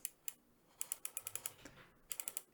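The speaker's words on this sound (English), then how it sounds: "It's got a little bit of resistance there, and obviously you can hear the clicking." Rotary dial on an NZXT MXER audio control station clicks as it is turned, a quick run of small sharp ticks in irregular bursts, close and faint, with a slight dragging resistance.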